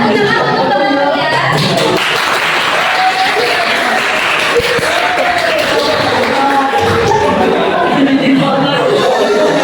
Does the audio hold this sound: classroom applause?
yes